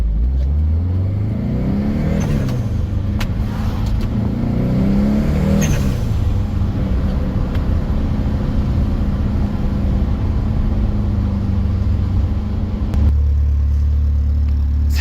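A car engine fitted with a new, quieter exhaust revs and rises and falls in pitch, then settles back, making a steady, close, loud drone throughout with no talking.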